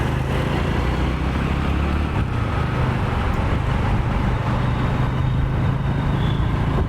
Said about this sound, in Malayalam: നല്ല ട്രാഫിക് ഉണ്ട് കേട്ടോ ഇപ്പം ഓഫീസ് ടൈമിൻ്റെ കാരണം.